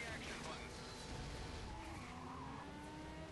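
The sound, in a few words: car drifting with skidding tires in Stuntman: Ignition video game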